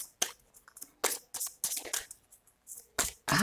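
Tarot cards are shuffled in quick, irregular bursts of crisp riffling and slapping, close up, with brief pauses between.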